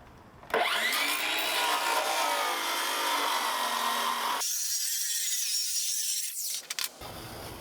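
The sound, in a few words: sawing wood floor panel for roof rack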